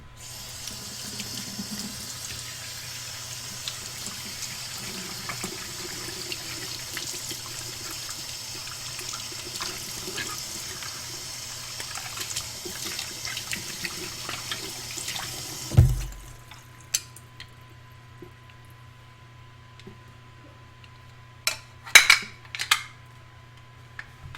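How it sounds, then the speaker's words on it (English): Ingredients being rinsed under a running kitchen tap while baking sea salt caramel M&M cookie bars; water streams steadily for about fifteen seconds, then stops, leaving a few faint knocks and clatters. "Oh, I gotta rinse those again."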